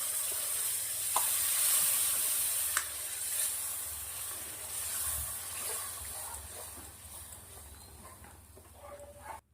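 Whisked yogurt goes into onion and garlic frying in a pan for a cashew and fresh turmeric curry, with a close, continuous sizzle that slowly softens, plus a few soft knocks and no talking.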